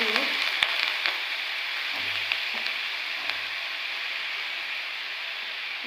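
Grated beetroot, carrot and potato hiss in a hot wok, a continuous even sizzle with occasional faint clicks and a low hum underneath.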